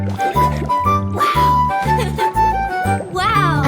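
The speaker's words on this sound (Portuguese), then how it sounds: "As bolhas do peixinho dourado fazem pop, pop, pop, pop, pop de regata." Goldfish bubbles pop in a bouncy Portuguese children's nursery song, short liquid pops landing in a regular beat over cheerful music.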